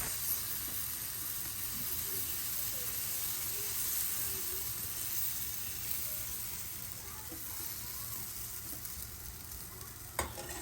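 Oats chila batter sizzles steadily on an oiled pan, giving a continuous close frying hiss with no talk over it.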